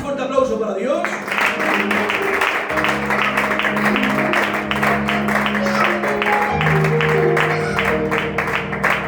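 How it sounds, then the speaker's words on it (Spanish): A church congregation claps through a service, a dense, steady patter of hands under music-like sustained tones and low voices, holding at a fairly even loudness throughout. "¿Podemos dar un fuerte aplauso para Dios?"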